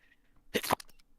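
A single short sneeze bursts out close by, sharp and brief, with a faint shorter puff right after in a quiet room.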